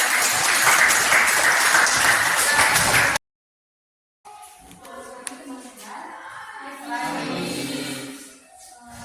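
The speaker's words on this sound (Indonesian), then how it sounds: "Tepuk tangan buat kelompok." A classroom group presentation draws dense clapping from fellow students for about three seconds before an abrupt cut, followed by quieter room sounds and murmuring voices.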